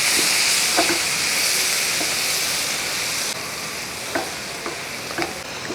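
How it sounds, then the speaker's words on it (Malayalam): Vegetable mezhukkupuratti sizzles and fries steadily in a pan, with a few scattered scraping stirs from a spoon through the hiss. "ഇനി ഇതെല്ലാം കൂടെ ഒന്ന് കൂട്ടി ഇളക്കി കൊടുക്കും"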